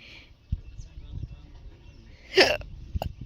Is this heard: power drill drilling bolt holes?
no